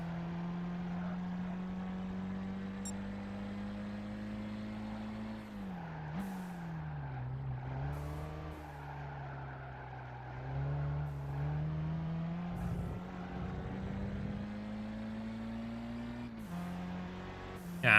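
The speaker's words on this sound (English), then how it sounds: "This engine sounds like a washing machine turned on the apartment next to yours." A Honda Civic Type R EK9 engine in the racing game Gran Turismo 5 hums steadily at mid revs with shifts and dips in pitch, plus faint tire squeals and clicks, and no talking.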